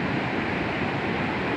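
High ocean waves at Dlodo Rejosari beach, a black-and-white sand shore, rumble as a continuous dense wash of surf mixed with wind noise, loud and close.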